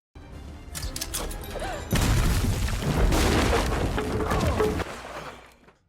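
Movie explosions tear through the grounds around a castle as one heavy boom rolls into a long crashing rumble with scattered debris, loud and dense for several seconds before fading out.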